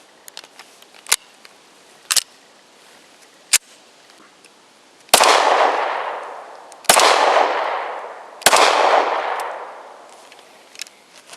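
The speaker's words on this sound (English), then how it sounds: "I've loaded this magazine with only 3 rounds, just so you can see a close-up of the actual gun firing" A Springfield XDm .40 caliber pistol fires three loud, close shots at even intervals outdoors, each a sharp crack trailing into a long echoing decay, preceded by a few small clicks and handling noises.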